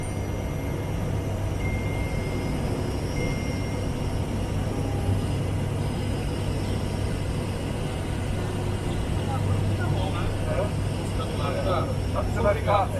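Airplane landing at Joinville, heard from inside the cockpit: a steady low engine drone and airflow rumble runs throughout while people talk over it.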